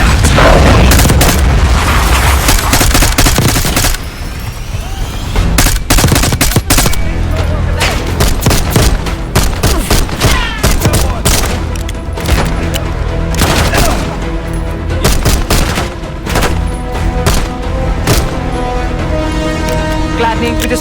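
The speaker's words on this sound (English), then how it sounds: "Exchanging fire!" Gunfire exchange in Call of Duty Black Ops 6, loud sustained automatic bursts and booming shots rattling continuously for twenty seconds, with a brief lull near the start and voices mixed in.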